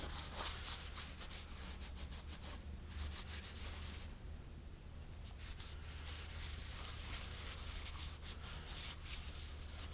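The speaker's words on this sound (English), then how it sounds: "we're going to wipe all this down" A rag rubs down a surface with lacquer thinner to remove oily residue, making a continuous close scrubbing and swishing sound with rhythmic strokes and a brief lull midway.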